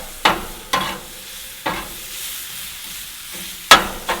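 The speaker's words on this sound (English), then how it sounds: "One of the things I like to do with smash burgers is grill the onions some first." Onions sizzling on a hot grill or griddle for venison smash burgers, a steady soft fry hiss broken by several sharp scraping stirs of a spatula, close and fairly quiet with no talk.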